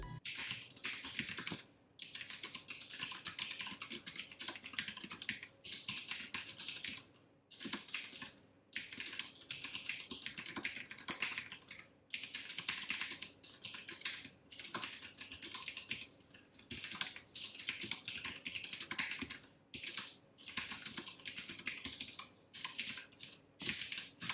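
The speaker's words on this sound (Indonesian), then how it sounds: "untuk tapping feel dari blue switchnya itu seperti ini" Fast, continuous typing on an Aula L2098 gaming keyboard with blue switches, crisp clicky keystrokes close up in long bursts with brief pauses, no talking.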